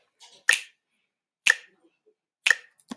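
Three crisp finger snaps land one second apart on a steady 60 BPM beat, each snap close and clear against near silence.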